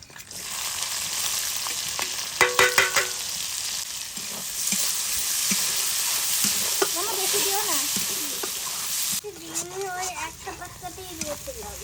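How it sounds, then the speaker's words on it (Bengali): Chopped garlic, ginger, onion and green chilli hit hot oil in a pan, producing a loud, continuous close-up sizzle with a few sharp crackles early on; a voice talks briefly over it in places. "এবার এই তেলের মধ্যে আমি দিয়ে দেব একটু কুচি করা রসুন কুচি করা আদা কুচি করা পেঁয়াজ আর কুচি করা লঙ্কা"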